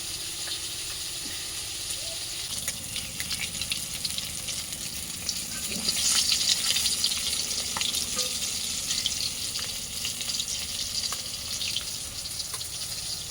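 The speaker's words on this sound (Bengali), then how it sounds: "উল্টে পাল্টে মাছটা দিয়েছি।" Fish fries in a pan of spitting oil and gets turned over, a continuous close sizzle with scattered sharp pops that swells briefly midway, with a bit of faint talk alongside.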